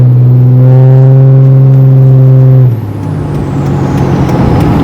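A Corvette engine holds a loud, steady high idle under an underpass, then drops into a rougher, rumbling tone that echoes off the concrete, close and powerful with no talking.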